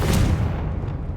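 A Confringo blast spell from Hogwarts Legacy bursts with a short, loud, heavy boom that rumbles and then fades quickly.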